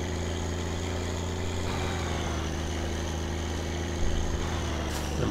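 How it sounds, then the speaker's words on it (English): Car engine in the video game My Summer Car held at high revs, over-revving with a steady droning whine and a low rumble throughout, close and loud with no talk. "I'm over-revving it."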